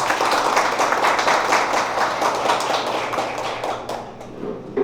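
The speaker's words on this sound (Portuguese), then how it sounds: "Mais uma vez, uma salva de palmas a todos eles." Sustained applause from a church congregation during an ordination ceremony, dense and steady clapping that fades slightly toward the end, heard alone without talk.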